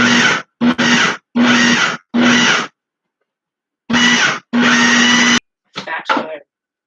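A food processor on its thickest setting pulses vegetables for Dixie relish: six or so loud, whirring bursts of about half a second each, separated by short silences, then a pause and a couple of lighter rattling pulses.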